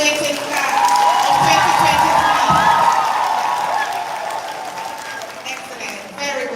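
Audience at a high school graduation ceremony applauds and cheers for the graduating class, a broad sustained roar of clapping with whoops, loud at first and tapering slightly toward the end, with voices mixed in.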